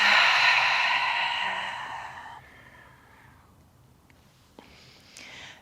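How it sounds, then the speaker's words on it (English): A long, soft exhalation through the mouth at the close of a yoga flow, a breathy airy rush that fades over about two seconds, followed by quiet and a faint rustle. "taking a breath out through the mouth"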